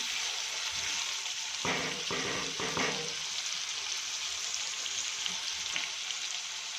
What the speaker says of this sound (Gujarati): અને ફુલાવર આમાં સોફ્ટ થવા દઈશું. એકાદ મિનિટ માટે આપણે આને હલાવીશું.